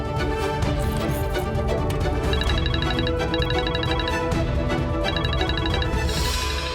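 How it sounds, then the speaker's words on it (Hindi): A telephone ringtone plays a repeating electronic melody in steady bursts, loud and close over a continuous background bed, with no voices. "ये फोन किसका बज रहा है?"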